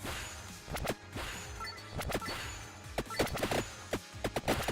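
Repeated sharp whip cracks and swishes in quick, irregular succession, layered over busy sound effects from the video game Vampire Survivors, with no talking.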